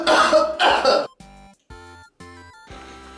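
Two quick mock coughs into a cupped hand, close and fairly loud, followed by a few seconds of quieter background tones.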